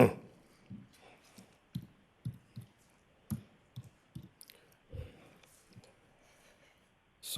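Sporadic keystrokes on a computer keyboard while typing a login during a city council meeting, irregular soft clicks spaced apart with pauses, fairly quiet and alone with no talk.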